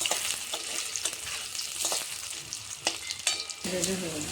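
Close crackling sizzle of boiled potatoes frying in oil, broken by several scraping stirs and clinks of a utensil against the pan.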